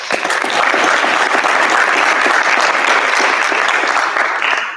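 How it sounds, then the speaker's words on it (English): A large audience at a junior honor society induction ceremony breaks into loud, dense, sustained applause, a continuous wash of many clapping hands that holds steady throughout. "Let us give them a round of applause along with Dr."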